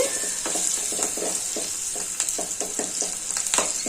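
Cumin and fenugreek powder fry in hot oil, a steady high sizzle punctuated by a regular series of scraping, knocking stirs of a spoon against the pan, close and clear with no talking.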